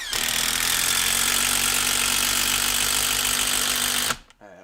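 A Makita power tool runs at full speed during a head-to-head Dewalt vs Makita test, giving a loud, steady, dense roar for about four seconds before cutting off abruptly, with no voices.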